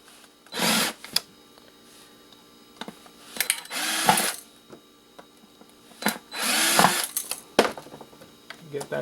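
Short bursts from a powered screwdriver or drill back out screws from a tea kettle being scrapped for its wiring, three separate whirring runs with quiet handling noises and small clicks in between.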